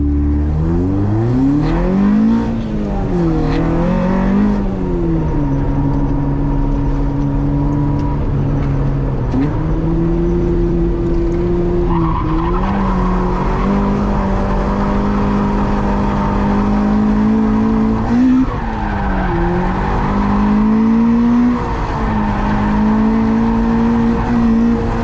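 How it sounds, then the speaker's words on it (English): Toyota AE86 with a Beams engine driven on track, the engine revving up and down in repeated sweeps while tires squeal through handbrake slides, loud and close with no talk. "I wanted to test out the handbrake to make sure that it was working correctly"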